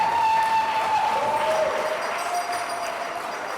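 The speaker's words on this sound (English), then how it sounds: "let's do a round of applause for Steve and Ann, the Van Alstyns and the Larsons" Wedding guests applauding the couple's families at a ceremony and speeches, a broad wash of clapping from the room with a faint tone running underneath, easing off toward the end.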